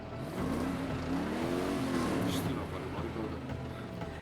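A 1958 Plymouth Fury car engine revs in the 1983 film Christine, a rising and falling growl that swells loud mid-clip and then settles into a rough rumble, with people talking over it.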